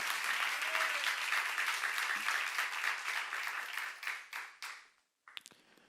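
A church congregation applauds in a dense, steady burst of clapping that thins into a few scattered claps before stopping, with a brief pause and a last faint clatter.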